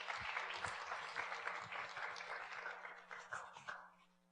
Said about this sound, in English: let's give them a round of applause for your participation.